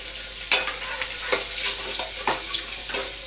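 Garlic and asafoetida sizzling in hot oil with mustard seeds, a steady crackling fry with small pops and stirring scrapes at intervals, close and alone.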